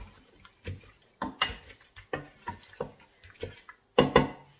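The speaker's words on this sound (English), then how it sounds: "I'm going to give it a stir." A spoon stirs fish pie stock with water and a stock cube in a pot, giving irregular close clinks and scrapes against the metal, with a sharper knock near the end.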